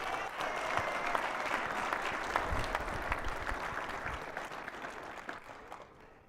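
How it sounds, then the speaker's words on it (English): A hall audience gives sustained applause for Don Cravens and Rick Hart at a public program, a dense, steady wash of clapping that holds for several seconds before tapering slightly at the end. "Can we give a round of applause?"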